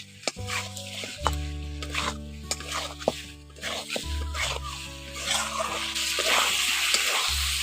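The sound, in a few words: fried potatoes being stir-fried with tomato masala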